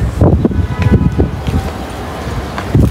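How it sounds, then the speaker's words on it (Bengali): Gusty wind on a rooftop buffets the microphone in uneven bursts, with low rumbling surges that rise and fall throughout, loud and close. "এত বাতাস আজকে"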